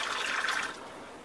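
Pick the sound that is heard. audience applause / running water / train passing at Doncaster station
running water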